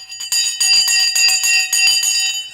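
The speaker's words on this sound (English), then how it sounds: "The bell's gone." A stock market trading bell rings in rapid repeated bursts, loud and close, its bright metallic tones sustaining with a steady pitch and no talking over it.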